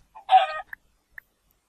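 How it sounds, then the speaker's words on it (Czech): A short Minecraft chicken cluck, close and clear, followed by two tiny clicks in otherwise silent surroundings. "To bylo to kuře tamhle, vidíš, utíká před tebou."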